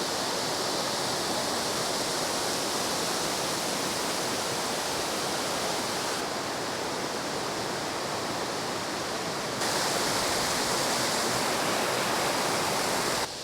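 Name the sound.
Tiger's Clough waterfall on the River Douglas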